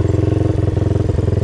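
A motorcycle engine revs under throttle, a close, loud, rapid pulsing idle-to-rev drone with a steady rhythmic beat throughout the short burst.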